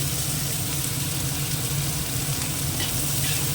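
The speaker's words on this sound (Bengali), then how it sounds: "পেঁয়াজটা ভাজা হতে থাক" Onion frying in oil in a pan, a loud dense steady sizzle that stays constant throughout, close up with no voices.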